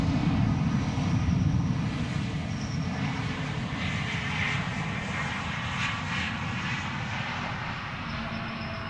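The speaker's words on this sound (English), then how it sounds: "Here we have the first E2 Embraer of the show." An Embraer E2 jet arriving from Geneva at Schiphol Airport gives off a steady, loud engine roar that holds at an even level for the whole stretch, with no voices over it.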